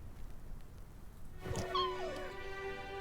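A small cartoon cat from the Christmas Stories: Nutcracker game gives one clear, drawn-out meow with a wavering rising-and-falling pitch, close and fairly quiet, rising out of a soft background hum.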